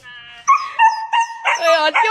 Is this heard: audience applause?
no